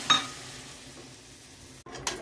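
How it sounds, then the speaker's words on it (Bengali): Water poured into a pan of sizzling fried spice masala with boiled potatoes and egg for a soybean curry, giving a steady close hiss of frying that cuts out briefly near the end before flaring again. "এবার জল ঢেলে দেব"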